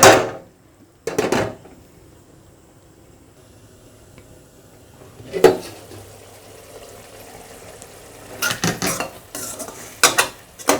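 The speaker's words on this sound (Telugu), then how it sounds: "ఒకసారి మళ్ళీ కలుపుకుని మళ్ళీ మూత పెట్టుకుని ఉడికించుకోవాలి" Prawn fry being stirred in a pan, with sharp bursts of spoon-on-metal scraping and clatter at intervals over a quiet background, the busiest cluster near the end, close up with no voices.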